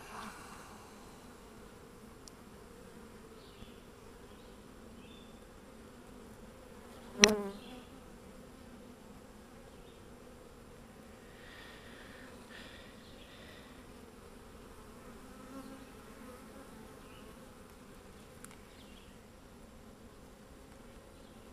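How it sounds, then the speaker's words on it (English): Steady, faint buzzing of many honey bees droning together in a hive, with one sharp click partway through. "There's a lot of bees"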